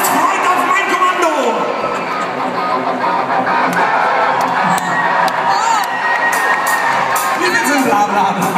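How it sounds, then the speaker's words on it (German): A large crowd of about 2000 young fans at a concert in Göttingen cheers, whoops and shouts continuously and loudly close around, a dense roar that holds steady throughout. "1, 2, 3, springen und jubeln!"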